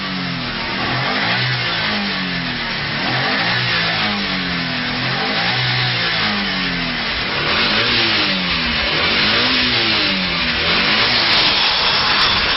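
A Subaru STI car engine revs hard and accelerates, with a loud, continuous, close engine roar whose pitch repeatedly rises and falls through gear changes. No one speaks.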